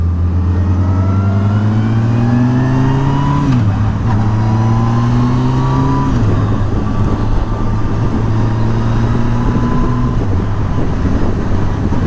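A 2007 Yamaha FJR1300 motorcycle at riding speed, its engine whining as it climbs through the revs with distinct gear changes, all under steady wind and road noise.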